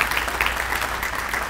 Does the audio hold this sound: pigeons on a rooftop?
no